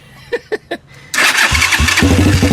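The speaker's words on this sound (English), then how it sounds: "This is the start button, not going to push it yet. Turn the choke on." A motorcycle, just repaired after minor electrical issues, is started with its push button and choke on: a few short clicks, then the engine catches and runs loud and close, rough and pulsing.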